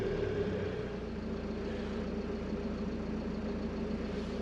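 A steady, low diesel car engine drone with a constant rumble, close and continuous, idling at slightly raised revs during a DPF regeneration.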